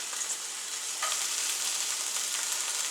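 Frozen green onions and white onion sizzle in a hot pan for shrimp fried rice, a bright, steady crackle with a small flare about a second in, close and without talk.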